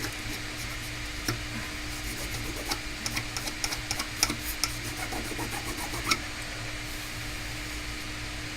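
A microfiber cloth dampened with alcohol rubs an iPad Pro 12.9-inch display connector, a soft continuous close scrubbing with faint ticks over a steady low hum.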